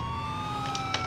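Ambulance siren in the Grand Theft Auto video game, a steady electronic wail with rising tones, close and fairly loud, with a couple of brief clanks near the end.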